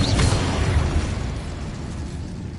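Confringo and Incendio spell explosions in a Hogwarts video game: a dense, roaring burst of blasts with fiery crackle that starts loud and slowly fades over a couple of seconds, with no voices.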